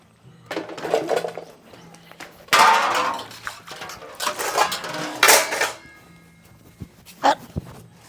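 Dishes and pots clatter and clink in bursts, with scraping and scrubbing noises in between, fairly close.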